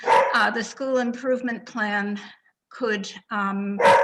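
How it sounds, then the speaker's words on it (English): A dog barks and yips in short bursts close to the microphone, partly under a person speaking during a school committee meeting. "I am so sorry about my dog."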